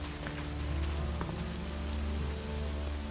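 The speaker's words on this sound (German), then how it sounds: "Ach, das ist ein Sandsturm." A sandstorm in the video game Elex, a steady rushing hiss of wind-driven sand with scattered ticking grains, sounding much like rain pattering on a surface, heard alone without talk.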